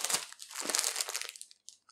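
A clear plastic bag holding Ice Yarns yarn crinkles loudly and close up, a quick two-second rustle of handling that tapers off into a couple of small crackles.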